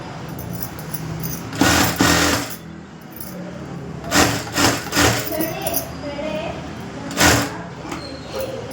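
A sewing machine runs long stitches on blouse fabric in several short bursts, with pauses between runs and someone talking over the quiet gaps.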